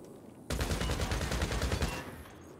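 A quick burst of gunfire in GTA 5 Online, shots aimed at a fuse box, fires in a rapid rattling series lasting about a second and a half, then cuts off.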